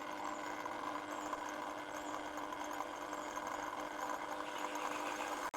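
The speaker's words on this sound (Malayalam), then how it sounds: "അങ്ങനെ നമ്മുടെ ചിരവ ടെസ്റ്റ് അടിക്കാൻ പോവുകയാണ്." A homemade automatic coconut scraper drones with a steady motor hum and a faint rhythmic vibration. It runs evenly and fairly quietly for several seconds, then cuts off briefly at the end. No voices.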